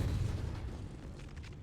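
Enemy ammunition cooking off in a modded career-mode video game: a single loud, deep boom that rumbles and fades over about a second, heard alone.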